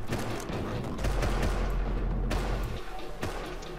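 Rapid bursts of gunfire in the survival game Rust, several sharp shots cracking close with heavy low booms rumbling beneath, fairly quiet overall.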